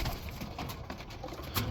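Pigeons cooing softly in a loft, a few low murmuring calls over steady background hiss, faint and at a moderate distance with no one talking.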